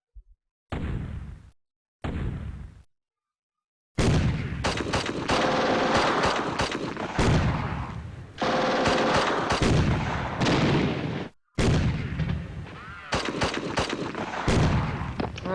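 Machine gun and rifle fire in the WW2 strategy game Steel Panthers, loud dense bursts of rapid shots, two short bursts first, then long sustained volleys broken by brief pauses.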